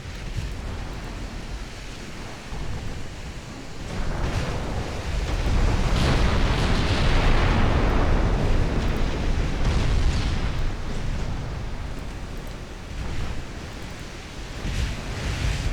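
Naval gunfire and shell explosions hit a light cruiser in the video game Ultimate Admiral: Dreadnoughts. The result is a loud, continuous rumbling roar of blasts that swells to a peak midway and then recedes, with several fresh bursts near the end.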